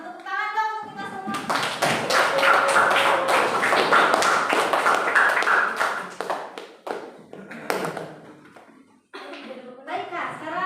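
A group at an Indonesian training session breaks into dense, sustained clapping for several seconds, mixed with excited voices, before it tapers off and speech resumes.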